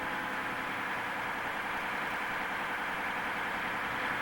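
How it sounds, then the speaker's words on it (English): A 1970s Cummins diesel engine runs steadily at about 2400 RPM during a positive flow cooling training demonstration, giving a continuous, even mechanical hum and vibration with no variation, heard alone at moderate distance. "With the engine running at about 2400 RPM"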